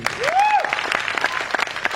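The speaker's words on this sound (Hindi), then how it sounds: "एक बार जोरदार तालियां।" Short burst of loud applause from an audience at a business event, mixed with a rising whistle and some crowd voices over the clapping.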